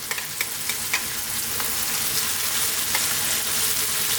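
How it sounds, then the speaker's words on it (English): Chopped tomatoes land in a pan of frying lamb curry, setting off a loud, close hiss with a few sharp crackles and stirring clicks over the steady sizzle. "We're now going to drop in those chopped tomatoes."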